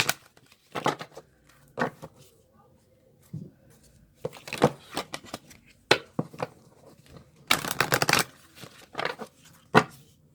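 Tarot cards are shuffled in short, crisp bursts of riffling and flicking, separated by quiet pauses, close and fairly soft.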